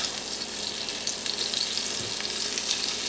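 Flour-coated pieces of liver sizzle in a pan with a steady, soft hiss of hot fat and a few faint pops, heard alone and fairly quiet.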